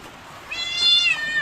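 A cat meows, a drawn-out high mewing call rising out of a faint background hiss, close and fairly clear, with no talking over it.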